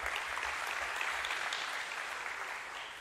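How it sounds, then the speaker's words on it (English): Steady applause from an audience at a civic gathering, dense and even clapping lasting a few seconds without voices. "Let's give His Worship a big round of applause."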